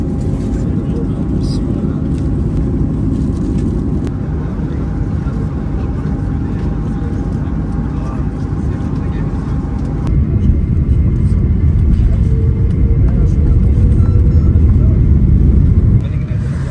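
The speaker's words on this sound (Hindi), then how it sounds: "ये कायरो एयरपोर्ट पे हम लैंड कर चुके हैं इस वक्त" Steady low roar of an airliner cabin just after landing at Cairo airport, broadband engine and air noise throughout with a slight shift partway, while a voice talks over it.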